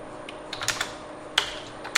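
Keys tapped on a computer keyboard while writing Python code, a few scattered clicks in small clusters with pauses, close and fairly quiet.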